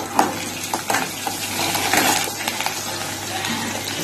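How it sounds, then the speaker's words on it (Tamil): Garlic and a piece of ginger tossed into a hot pan with cumin for village-style crab kuzhambu, giving a steady close sizzle with a few light clinks and stirring scrapes. "பூண்டு போட்டுக்கலாம், இஞ்சி ஒரு துண்டு போட்டுக்கலாம்"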